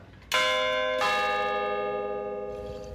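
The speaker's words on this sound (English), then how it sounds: "No, this is a real bell." A real historic church bell in a German village near Herxheim am Berg strikes twice, each loud clang ringing out with a long, slowly fading metallic hum.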